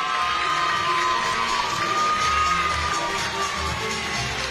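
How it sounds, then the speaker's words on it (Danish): A dense crowd roars and cheers steadily for a fighter's ring entrance at a Danish fight night, loud and continuous with scattered shouts and whoops, with a faint tonal hum running underneath. "et stort bifald til det røde hjørne"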